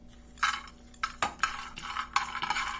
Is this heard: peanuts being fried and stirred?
yes